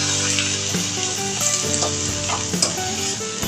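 Dill greens sizzle steadily in a hot pan as salt is stirred through them, a close, continuous frying hiss with soft scraping from the mixing, no voices.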